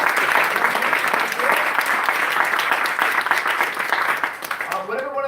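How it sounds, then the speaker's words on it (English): Audience applause for a venue sponsor team at a live event, a dense, steady wash of clapping filling the room that thins and trails off near the end. "So I have a round of applause for them."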